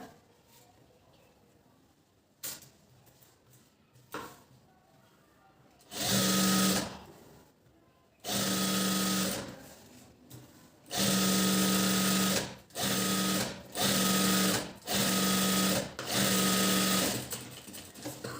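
A sewing machine stitches the joint of a blouse sleeve in about six loud, steady whirring runs separated by short pauses. Faint handling noises and quiet talk come before the stitching starts.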